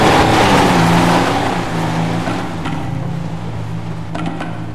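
The Vapid Sandking XL truck's engine in GTA V, a loud revving drone with a steady low tone that eases off and settles, with a few faint clicks near the end and no speech.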